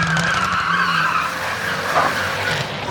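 A car slides with a loud, sustained tire skid at a car meet, the squeal holding steady close by and filling the moment without any talking.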